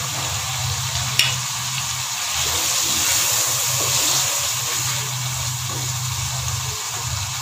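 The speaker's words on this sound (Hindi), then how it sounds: "थोड़ा सा इसमें पानी ऐड कर दें" Steady sizzling and frying as water gushes into a pan of tomato and green chili paste for chicken biryani, a continuous hiss running throughout with one sharp click near the start.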